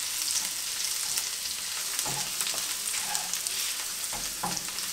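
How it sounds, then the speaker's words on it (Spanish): Minced garlic fries in a pan with a steady, hissing sizzle, and a few soft stirring knocks come through, close and continuous with no talk. "los ajos picados. Vamos a dejar aquí un momentito que no se nos vayan a quemar"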